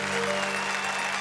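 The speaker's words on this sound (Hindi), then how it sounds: "और सुरेंद्र दुबे के लिए एक बार हम जोरदार तालियां बजाएं।" A studio audience at a Hindi comedy poetry show applauds poet Surendra Dubey, producing a brief burst of steady clapping over a constant low hum, with no voices on top.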